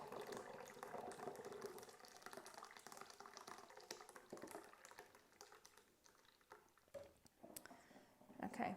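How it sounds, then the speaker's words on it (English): Homemade strawberry mead pours into a 5 litre demijohn, a faint, steady gurgling stream of liquid that thins into splashy trickles and drips toward the end. "next we are going to pour our lovely, wonderful liquid into the 5 litre John"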